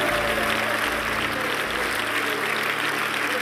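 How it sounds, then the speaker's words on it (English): Congregation clapping during a church service with an apostle preaching, a brief steady wash of applause lasting a few seconds over a low hum. "Come on, just clap for the Lord."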